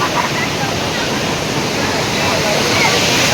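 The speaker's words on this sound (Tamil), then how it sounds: "கோவில் ஓரத்துல தண்ணி போகுது பாருங்க." Water flowing around the edge of a temple in India, a continuous, loud, close rushing with no breaks and no talk over it.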